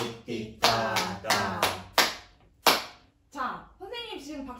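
A teacher claps out a rhythm pattern in sharp, close hand claps of uneven spacing, a few quick pairs among single claps, with some vocal syllables between them.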